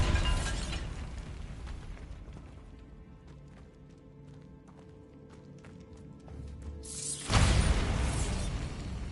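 In Hogwarts Legacy, a Bombarda blasting spell goes off as a sudden loud explosive burst with a shattering edge, following quieter clicks and rumbling, then a rushing roar fills the rest.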